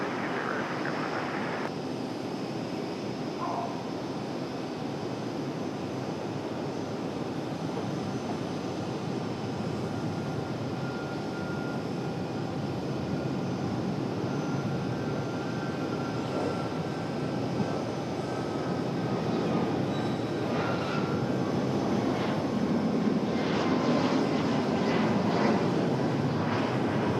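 Jet airliners land and take off at RDU airport, producing a continuous, fairly loud engine roar that holds steady throughout with no voices.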